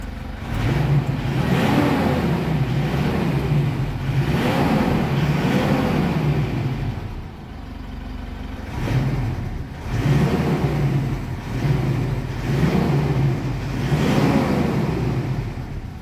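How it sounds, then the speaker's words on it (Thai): A Mitsubishi Triton pickup engine under repair for a faulty pump valve idles and rises in repeated revs, loud and close, with a brief dip in the middle. "อย่างนี้เร่งได้นะช่างใช่ไหม"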